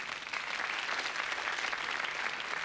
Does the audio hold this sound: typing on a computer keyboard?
no